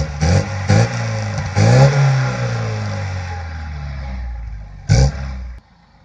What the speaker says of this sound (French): filme l'échappement, je vais démarrer.